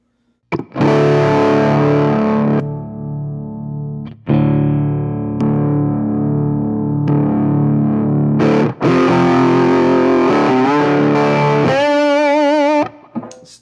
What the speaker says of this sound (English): So now this is using 2 overdrives basically into the amp.